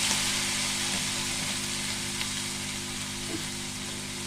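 Crushed ginger and garlic frying in oil in a pan for fried rice, a steady loud sizzle close up that holds throughout without any voice.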